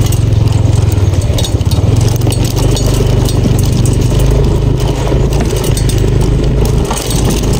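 A motorcycle engine labors along a long, rough, slippery mountain trail in Cagayan Valley, loud and continuous with clattering and shaking from the uneven ground.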